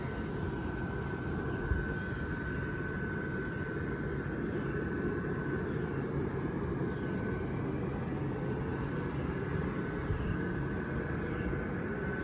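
The blower fan of a 2010 Gemmy Christmas inflatable runs with a steady, loud whooshing hum and a faint constant whine, unchanging throughout.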